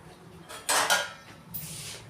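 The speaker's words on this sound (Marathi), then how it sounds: "त्याच्यावरती आपल्याला झाकण ठेवायचं आहे" A metal lid is set onto a pot of semolina inside a pressure cooker while making rava coconut ladoo, giving two close, sharp clanks in quick succession followed by a softer metallic scrape as it settles.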